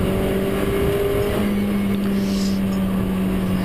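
Caterham Vauxhall race cars on track at Pembrey circuit, a steady loud engine drone with sustained tonal whine throughout, shifting pitch partway as a car pulls away through the corners, no talk over it.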